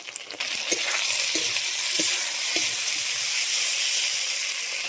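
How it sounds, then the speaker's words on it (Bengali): Eggplant fries hard with onion and garlic in hot oil, a loud continuous sizzle and hiss that starts with a few stirring knocks and then holds steady close up. "বেগুনটাকেও একটু লাল লাল করে ভেজে নেব পেঁয়াজ আর রসুনের সাথে"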